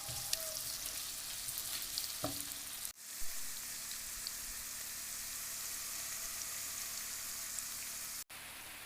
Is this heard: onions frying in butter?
yes